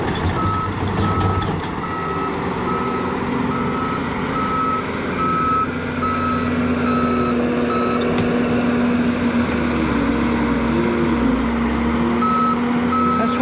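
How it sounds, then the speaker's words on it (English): A John Deere machine moving dirt at a basement dig, its diesel engine rumbling steadily while a reversing alarm sounds in a regular repeating pattern, close and loud, with no voices. "Thing that John Deere is good at, and that's moving dirt."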